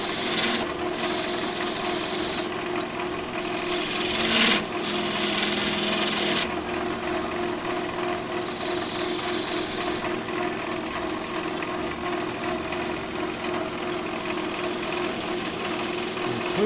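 A skew chisel taking a cleanup cut on wood spinning on a lathe, giving a steady continuous rasping shave with brief louder bursts, close and without talk.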